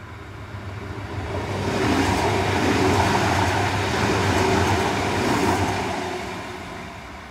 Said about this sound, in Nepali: सिटी जाने ट्रेन गयो